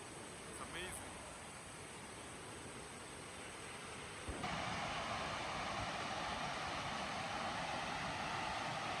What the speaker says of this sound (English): it's a big waterfall, guys, in front of us